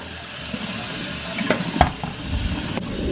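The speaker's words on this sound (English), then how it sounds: "as your hominy is rinsing out" Hominy rinsed under running water, a steady splashing wash of water throughout, with a few brief clinks near the middle.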